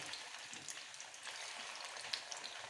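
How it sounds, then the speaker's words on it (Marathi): Ground masala with cumin frying in hot oil in a kadhai, a faint, even sizzle with a few soft crackles, fairly distant and quiet with nobody talking. "मसाले आपल्याला तेलात चांगले फ्राय करून घ्यायचे"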